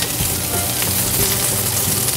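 Blanched Brussels sprout leaves searing in butter in a hot restaurant pan, giving a steady, close, crackling sizzle with small pops throughout the short moment, and no voices.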